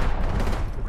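Rapid automatic gunfire in Apex Legends Season 7 gameplay, a dense loud burst lasting about a second, with players talking over it.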